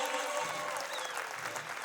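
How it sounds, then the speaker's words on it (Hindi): Audience clapping for four performers at a Republic Day celebration, a dense, fairly quiet wash of many hands that stays even for the whole short stretch. "एक बार हमारे 4 पार्टनर के लिए जोरदार तालियां।"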